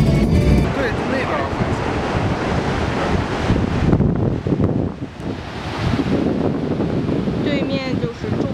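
Ocean waves and wind at Ocean Beach, San Francisco, a loud rushing surf wash buffeting the microphone throughout, with voices chatting briefly over it.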